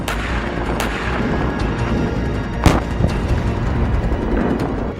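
Artillery fire during the war in Ukraine, with shelling around Zaporizhzhia: several sharp, loud booms and cracks land over a continuous low rumble, with one especially strong blast near the middle.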